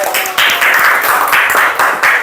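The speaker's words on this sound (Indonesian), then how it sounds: "tepuk tangan untuk kita semua" A crowd claps together in a burst of applause, steady and fairly loud for a couple of seconds, with a brief dip partway through.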